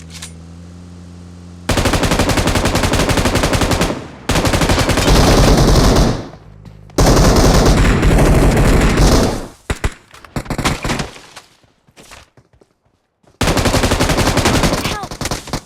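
Loud, sustained bursts of automatic gunfire in a video game, long rapid volleys separated by short pauses, with scattered single shots and shouting players.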